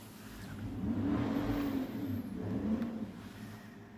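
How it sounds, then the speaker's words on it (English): Car engines revving and tires spinning on a snowy road on a frigid winter night during a January snowstorm, a steady mid-pitched whine rising and falling twice, moderately close with no talking. "people are trying to get their vehicles off the road, I guess. Spinning their tires."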